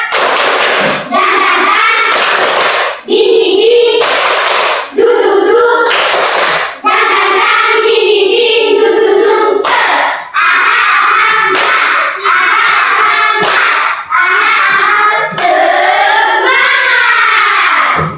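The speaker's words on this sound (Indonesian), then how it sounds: "Tepuk semangat" A school class performs a rhythmic 'tepuk semangat' spirit clap, bursts of sharp, loud group claps in a patterned beat alternating with chanted voices.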